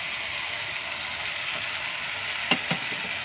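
Tomato fries with ginger-garlic paste for aloo dum, a steady bright sizzle holding throughout, close and fairly loud, broken by two quick spatula taps near the end, no voices.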